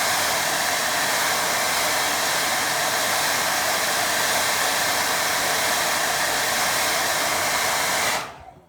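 Hair dryer blowing on a watercolour painting of a rocky beach, a loud steady close-up roar for about eight seconds before abruptly switching off.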